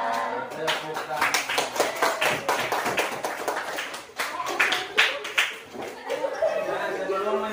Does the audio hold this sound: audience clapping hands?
yes